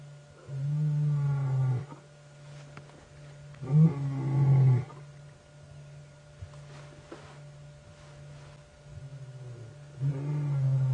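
Lions roar during a live late-afternoon safari drive, deep rumbling calls in two or three separate bouts with quiet gaps between, close and loud, with no one speaking.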